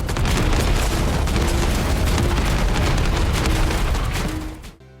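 Melee combat in the video game The First Descendant: a loud, unbroken barrage of booms and bursting impacts that fades out at the very end.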